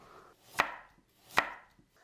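Two sharp knife chops of carrot on a cutting board, evenly spaced about three-quarters of a second apart, close and crisp with quiet pauses between, cut as a garnish for steamed beef brisket with bean sprouts.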